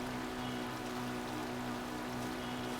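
Steady rain falling in the Zelda Hyrule video game, a soft, even hiss with a faint low hum beneath, quiet and unbroken throughout.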